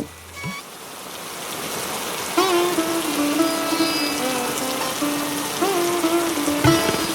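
Rain falls steadily in a cartoon scene, a continuous hiss of water that swells slightly partway through, with a sustained melodic tone riding on top.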